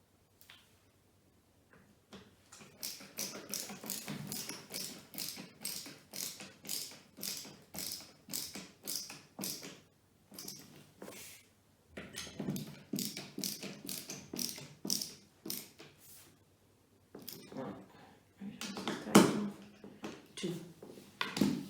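Screws are tightened into a six-drawer IKEA Malm chest during assembly, with bursts of rapid ratcheting clicks and taps from a hand tool, repeated in several runs separated by short pauses.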